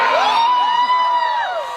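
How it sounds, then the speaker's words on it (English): The live audience at a Kill Tony comedy show in Austin cheers loudly, with rising and falling whoops and shouts from the crowd in a brief, close burst. "They're cheering for him to get off"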